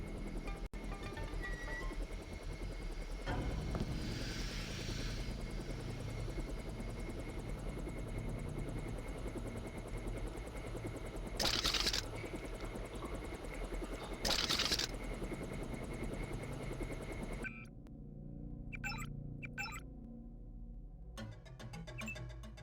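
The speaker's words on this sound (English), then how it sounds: "Locked on the chopper and had the nav computer fly us straight in." Helicopter in the video game Deus Ex, a steady low rotor drone and engine hum running continuously at moderate level, with two short hissing bursts midway and the drone dropping away near the end.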